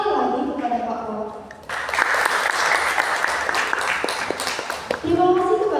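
Voices speak at the start and end, and between them an audience breaks into loud, dense applause that lasts a few seconds.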